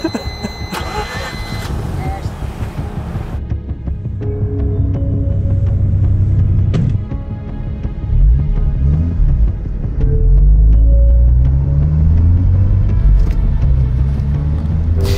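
A loud Mazda RX-8 rotary engine starts and idles with a rough, burbling rumble, revving up and settling several times, close to the microphone.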